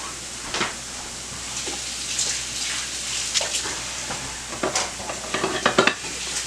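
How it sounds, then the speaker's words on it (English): A spoon stirs cooked rice with lime juice and cilantro in a pan for shrimp tacos, giving soft scraping and moist rustling over a faint sizzle, with a few louder scrapes near the end and no speech. "We're just going to stir this rice up."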